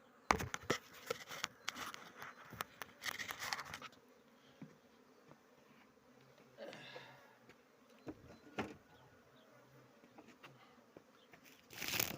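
Honeybees buzz in an opened hive with raised comb frames in early May, a faint steady hum broken by scattered rustling and knocking of frames, with quiet stretches in between.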